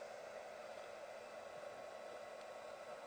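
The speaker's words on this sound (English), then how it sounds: "This is a heat tool." A heat embossing tool blows hot air in a continuous, even whoosh, close and steady with no talking over it.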